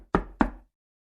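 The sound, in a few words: knock on a door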